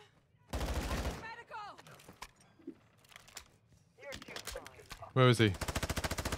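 Automatic gunfire in Call of Duty DMZ, with loud rapid bursts of shots, a short burst early and a sustained heavy volley near the end, while players talk over it.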